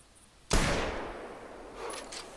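A single rifle shot at a wild boar in the hunting game theHunter 2017, a sharp loud crack that rolls away into a long fading echo across open terrain.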